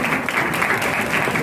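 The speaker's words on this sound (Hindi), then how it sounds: "बहुत बहुत तालियां हो जाए" Dense applause from an audience at a women's honour ceremony, a continuous wash of many hands clapping at once, loud and close for the whole short stretch.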